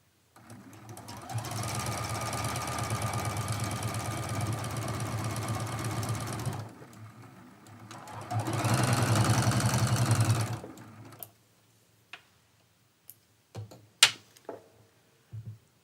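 A sewing machine stitches a seam in a quilt block, whirring steadily and loudly for about six seconds, then briefly slowing before a second run of a few seconds, followed by scattered soft clicks and handling noises.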